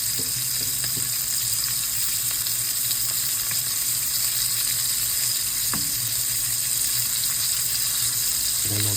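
Steak frying in a pan for a medium-rare to medium lunch, giving a steady, loud, continuous sizzle with a few faint clicks and no talking.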